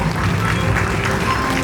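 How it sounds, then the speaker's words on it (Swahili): Audience applause at a Tanzanian youth program launch, a steady wash of clapping held at an even level throughout the short moment. "Makofi jamani."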